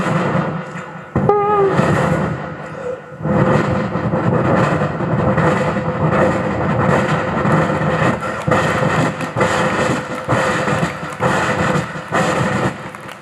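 A mimicry artist on stage imitates an approaching train with his voice, producing a loud, continuous rumbling roar broken by rhythmic chugging pulses and a brief whistle-like tone near the start.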